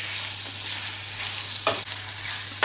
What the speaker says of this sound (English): we're literally gonna wait and let the meat fry with everything else